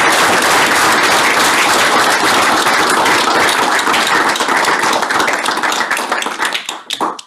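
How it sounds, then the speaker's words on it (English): Audience applause at a Partners for Democracy session with Joe Kennedy III, with loud, dense, continuous clapping that thins out and fades during the last second. "So let's give one more round of applause"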